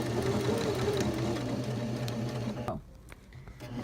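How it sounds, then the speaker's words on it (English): A sewing machine stitches fabric for a bow pillow with a fast, steady mechanical whirr and rapid needle tapping, close and clear, then abruptly stops near the end, leaving quieter handling sounds. "And now you can just keep sewing."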